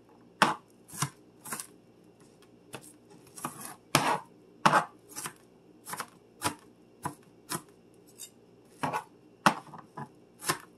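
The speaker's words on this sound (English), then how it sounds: "Run the knife through and get it into a nice diced form." Knife dicing onion on a cutting board: a steady run of sharp, close chopping taps in irregular bursts, fairly loud and alone with no talking.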